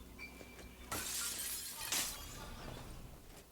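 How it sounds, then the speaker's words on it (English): Glass shatters in a Call of Duty match, with two sharp, bright breaks about a second apart over steady game ambience and faint background noise. "Glass breaking does make noise."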